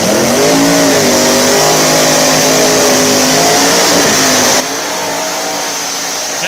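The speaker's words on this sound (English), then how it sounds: "That was the loudest race ever in my life." Loud no-prep drag race cars roar down the strip at full throttle, a dense, continuous engine blare with rising revs, then the sound drops slightly in level as the cars pass on.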